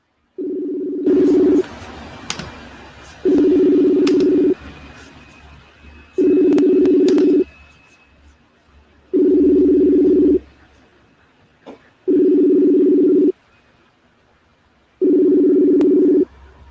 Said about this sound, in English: It's still ringing, and I don't know how to stop it.